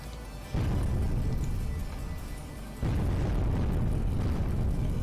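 Repeated booming explosions from fireworks in the strategy game Creeper World 3, two dense bursts of low rumbling blasts that swell suddenly and keep rolling loudly with no talk over them.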